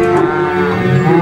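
Limousin cattle low and moo in a long, steady drawn-out call at a cattle market, loud and close, with no talk over it.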